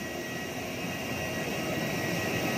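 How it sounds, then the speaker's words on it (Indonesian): Steady, loud jet aircraft engine roar on a sunny airport apron where Citilink and Sriwijaya airliners are parked, a continuous broadband rumble with no pauses and no voices. "Itu di depan ada pesawat Sriwijaya teman-teman."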